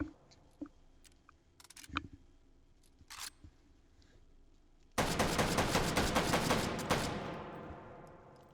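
An M1941 Johnson rifle in Hot Dogs, Horseshoes & Hand Grenades gets reloaded with a stripper clip: a few light metallic clicks and taps, then a loud sustained burst of rapid fire that cuts off sharply and leaves a fading ringing tail.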